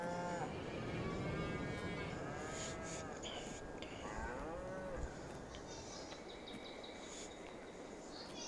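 Cattle at a cow barn in the video game Farming Simulator 22 moo repeatedly, several overlapping low calls rising and falling over a steady outdoor ambience with faint birds and insects, moderately distant and quiet.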